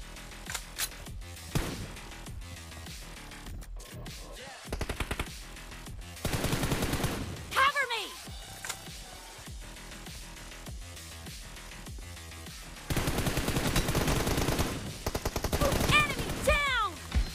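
Rapid automatic gunfire in a PUBG team deathmatch crackles in repeated bursts, some nearer and louder, with someone talking in between.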